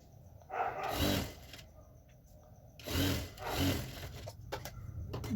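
A sewing machine stitches the seat round of ladies' pants in bursts, two main runs of rapid mechanical whirring with quiet handling and rustling of fabric in between.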